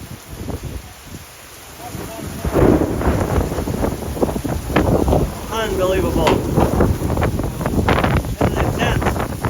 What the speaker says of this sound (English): This must be a real Missouri rainstorm.